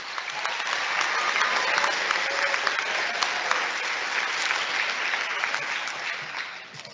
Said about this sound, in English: Let's have a round of applause for our scholar athletes